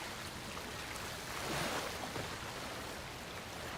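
Steady rushing water from a waterfall in the fantasy action RPG Soulframe, a constant broadband roar at low volume with no talking.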